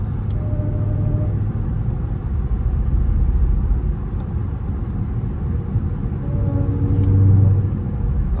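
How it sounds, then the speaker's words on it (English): Dodge Hellcat at highway speed, a continuous low road and engine rumble with a faint supercharger whine riding on top, swelling slightly near the end as traffic passes. "That Whine is just whining away the whole time."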